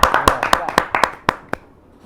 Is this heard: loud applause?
yes